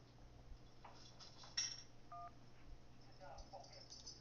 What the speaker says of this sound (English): If you can't talk, please press any digit on your phone